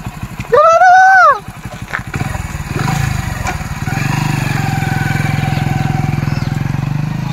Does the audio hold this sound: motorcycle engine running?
yes